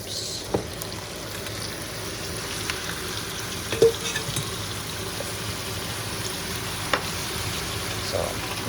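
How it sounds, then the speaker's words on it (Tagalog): Food sizzling in a pan while being stirred, a continuous frying hiss with occasional clinks and scrapes of the utensil, heard up close without speech. "So let me stir it first."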